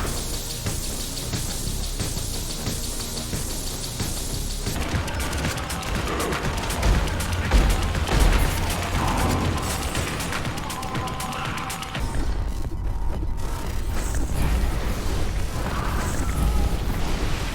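Rapid bursts of gunfire and booming impacts rattle continuously over a dense, loud backdrop of electronic music and effects.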